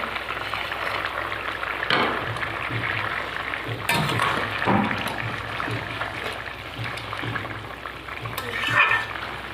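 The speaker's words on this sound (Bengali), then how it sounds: "এবার আমি মাছগুলো দিয়ে দেবো।" Bata fish going into a pot of bottle gourd greens that is already cooking, heard as a steady bubbling simmer with stirring, a few clinks of a utensil against the pot and short splashy bursts, loud and close.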